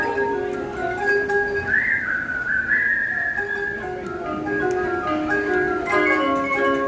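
Someone whistles a wandering melody over a busy background hum of an outdoor crowd at Walt Disney World.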